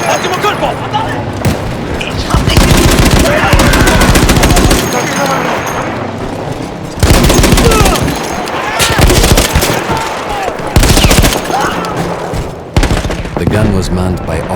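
Loud sustained machine-gun bursts in Battlefield 1, a World War I battle with a gun manned by Austro-Hungarian troops, firing in long rapid volleys with brief pauses between them, joined by explosions and shouted voices in the background.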